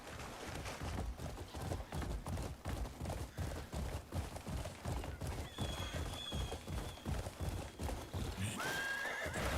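Rhythmic galloping hoofbeats pound steadily with game-like sound effects in the video game Crimson Desert, and a horse whinnies a couple of times near the end.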